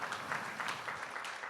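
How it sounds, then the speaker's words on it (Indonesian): Faint, distant applause from a church congregation during an online worship service, a soft continuous patter of many hands with no voices. "Yang percaya saja berikan tepuk tangan bagi Tuhan Yesus."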